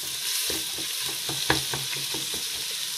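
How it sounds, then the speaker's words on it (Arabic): Tomato paste and onion frying in oil in a cooking pot, a steady sizzle under repeated stirring scrapes with one sharper knock, continuous and close. "ندير ملعقه تاع طماطم صبره تتقلى في الزيت مع البصل"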